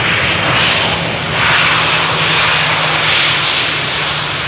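EasyJet passenger jet inbound from Luton landing at Amsterdam Schiphol, a steady loud broadband engine roar that swells and eases slightly as the aircraft passes fairly close, with no voices.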